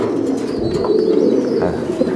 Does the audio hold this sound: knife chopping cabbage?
no